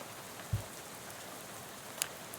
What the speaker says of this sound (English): you're dozing off to the sound of rain spattering on the window beside you